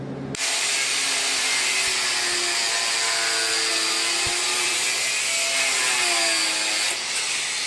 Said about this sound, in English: That's why I like the wire wheel as well.